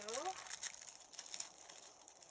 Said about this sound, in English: I apologize for the crinkling if that hurts your ears.